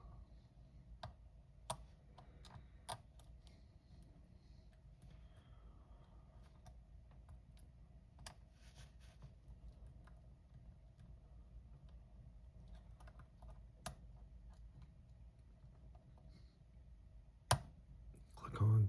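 Faint small clicks come from a Brinks 40mm brass-body padlock being picked, sparse and irregular over a quiet hum, with one sharper click near the end.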